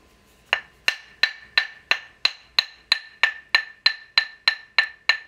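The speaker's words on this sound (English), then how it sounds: "This is a chasing hammer I made for myself. It has a white oak handle and a Cocobolo head." Chasing hammer with a white oak handle and cocobolo head tapping wood: about fourteen crisp, evenly spaced knocks with a bright ringing tone, close and clear, with no talking.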